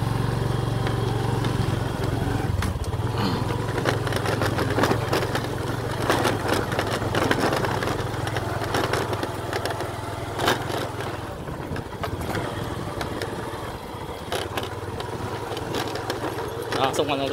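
A motorbike rides along a rural road toward the main road near Láng Lớn, Châu Đức, its engine droning steadily under wind buffeting and rattles, with a steady low hum throughout.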